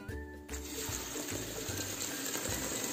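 Cold tap water gushing steadily over cooked sweet potato glass noodles in a kitchen sink, a constant bright splashing that starts abruptly and runs without pause.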